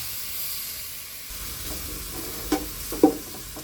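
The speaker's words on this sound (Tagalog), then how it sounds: "Kumbaga, ibiprito muna natin yung karne mga kapinas." Meat frying in a pan in a rural Philippine home kitchen, a steady close sizzling hiss throughout, with two brief sharp clinks of a utensil near the end and no talking.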